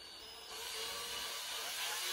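A drill bores a hole into an RB25 cylinder head in a workshop, a steady, close, broadband whir that grows slightly louder after the first half second and holds without pause.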